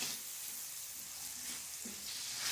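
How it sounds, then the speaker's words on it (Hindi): Chicken cooks in a pan with spices, vinegar and soy sauce, making a soft, steady sizzle and gentle frying hiss that swells slightly toward the end. "सिरका डालेंगे 1 table spoon, soya sauce 1 teaspoon और बस अच्छी तरह से इन तमाम मसालों को कुक कर लेंगे।"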